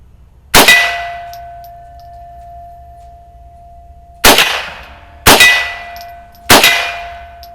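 Rifle rounds from an Erma Werke EM122 German M1 carbine training rifle strike a swinging steel gong, four loud ringing clangs, the first alone and then three in quick succession, each leaving a sustained metallic hum.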